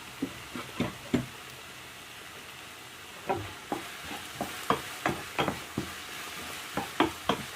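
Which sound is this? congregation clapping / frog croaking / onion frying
onion frying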